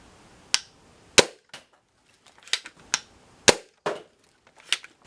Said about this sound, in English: Right now we're shooting half-length darts, and we're shooting with the full 4 bands